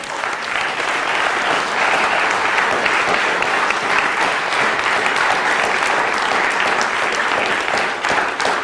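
Lecture audience at UCLA breaks into sustained applause, a steady, loud wash of many hands clapping throughout with no pause or letup.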